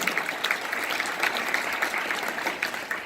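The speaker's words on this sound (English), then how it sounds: "Round of applause to Dr. Barnard." Audience applause at a whole-food plant-based nutrition forum, a steady crowd of many people clapping with scattered sharper claps, moderately loud and sustained throughout.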